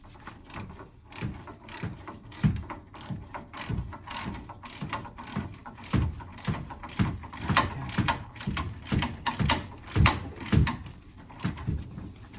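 A socket wrench with a 5/8 socket ratchets bolts on a B&G 100 series three-piece circulator pump being replaced by a Taco 007e, quick repeated clicking strokes in a steady rhythm, close and clear, without talking.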